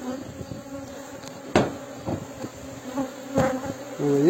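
Honeybees in a hive colony dusted with icing sugar during a varroa mite check, a low continuous buzz close by, broken by a few sharp knocks and taps from handling the equipment.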